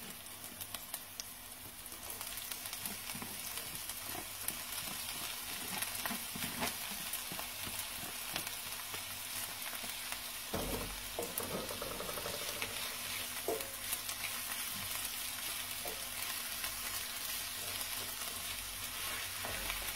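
Blanched radicchio cooking in a pan for lasagne, a steady quiet hiss of frying with light crackles and a few clanks of utensils, no voices.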